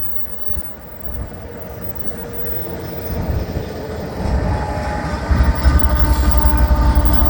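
A Florida East Coast Railway train rumbles past at night, its heavy roar and rolling clatter building steadily louder as it draws near.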